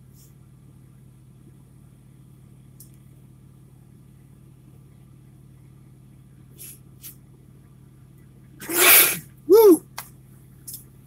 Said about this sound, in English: I sneezed to edit that out.